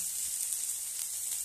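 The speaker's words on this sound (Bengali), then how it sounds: "গরম হয়ে গেছে তেলটা, এরপরে পেঁয়াজ দিয়ে দিব।" Onions sizzle in hot oil in a home kitchen in Bankura, a close, steady bright hiss of frying with no break or talk.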